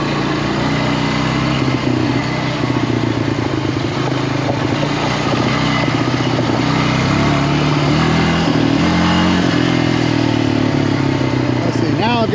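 A Honda Rancher 350 ATV that has lost compression drones steadily during a ride, its engine loud and close with rough harmonic rumble and clatter, and the pitch shifting as it gathers speed.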